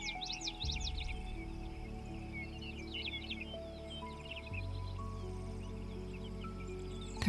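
Birds sing by Coldwater Lake in summer, faint, quick chirping phrases heard at a distance over a steady low hum and background hiss, with no talking.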